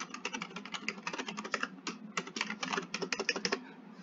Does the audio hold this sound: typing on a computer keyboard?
yes